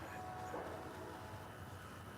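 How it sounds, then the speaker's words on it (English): A train rumbles past nearby, a continuous low roar with a broad steady hiss over its whole length, with no speech over it. "I love the train."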